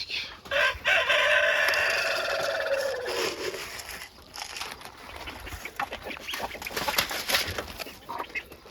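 On a farm at morning feeding, a rooster lets out one long, loud crow nearby while chickens keep up scattered clucking and calling afterward.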